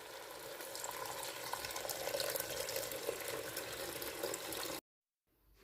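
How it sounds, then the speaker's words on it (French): Water poured steadily into a tagine cooking pot for several seconds, a continuous close rushing and splashing that cuts off abruptly. "Après 5 minutes, je rajoute de l'eau."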